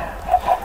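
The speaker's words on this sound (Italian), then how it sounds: "Giuro che li uccido sti polli" Minecraft chickens in the Project Ozone 2 modpack clucking, a few short nasal clucks repeating close by over a steady low game hum.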